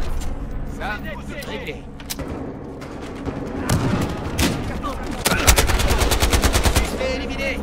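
Rapid bursts of automatic gunfire and scattered single shots from the video game Battlefield Hardline, loud and continuous, with players talking over the shooting.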